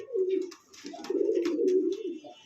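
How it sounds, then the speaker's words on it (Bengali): Pigeons at a pigeon sale coo steadily and close by, low warbling calls overlapping almost continuously, with light chirps and rustles above. "দেখছেন এক একটা জোড়া কবুতর"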